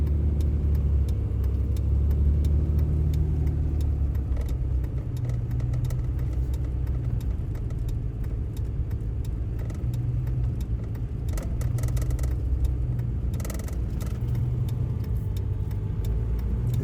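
A CASE 9240 combine drives down a road, its engine giving a loud, steady low rumble close by for the whole stretch, with faint rattles on top and no talking.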